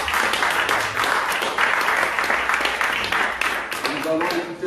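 A church congregation applauds continuously, a dense wash of clapping that fills the space at steady volume for several seconds, with voices mixed in.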